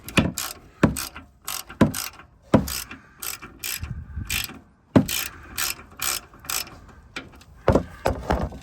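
A ratchet wrench clicks in quick bursts, close up, on the drivetrain of a 2011 Range Rover L322 5.0 supercharged during a fluid service, with short pauses between strokes and no talking.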